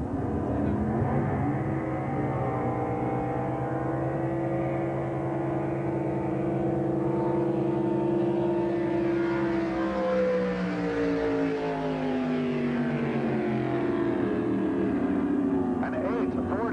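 A loud drag racing boat engine roars continuously at an unblown 1989 IHBA world finals, its pitch sweeping up and down as it passes, with an announcer talking over it.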